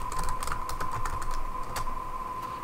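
Quick bursts of keystrokes on a computer keyboard, close and clattery, as a command is typed into an Ubuntu terminal, with a brief pause between clusters of taps.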